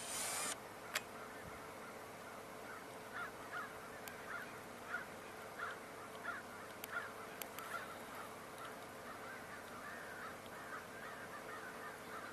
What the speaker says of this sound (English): not hearing anything other than the crows